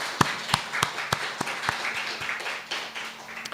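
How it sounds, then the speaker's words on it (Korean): Scattered congregation clapping in a Korean church Sunday service, a few distinct loud claps over a soft bed of applause, moderately close. "다시 한번 우리 축하의 박수를 드립니다"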